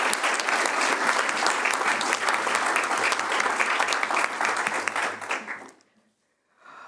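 An audience at a swearing-in ceremony breaks into loud, sustained applause, dense clapping that carries steadily for several seconds before cutting off abruptly into silence, followed by a faint trailing sound.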